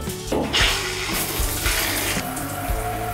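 Water from a standard household shower head runs steadily as a continuous close hiss and splash, with a few brief bumps and clatters in the spray.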